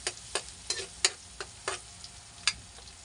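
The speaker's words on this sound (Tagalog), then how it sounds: "Papulayin lang po natin yung bawang." Garlic fries in a pan while being stirred for a Filipino squid dish, a soft steady sizzle broken by sharp, irregular scrapes and clicks of the spatula.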